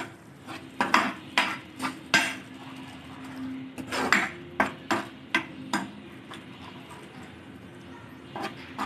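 A spoon stirs yogurt into arbi masala in a pan. It scrapes and clinks against the metal in irregular sharp taps, clustered and fairly close, over a faint steady hum, with no talk.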